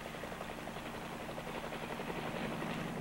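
A military wire-laying helicopter drones steadily nearby, its rotor chop and engine roar holding at an even loudness throughout with no pauses or voices.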